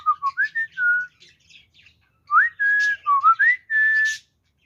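Pet parrots in a cage whistle clear, rising and falling tones in two bursts of short chirps and longer held notes, with a quiet gap between them and no talk.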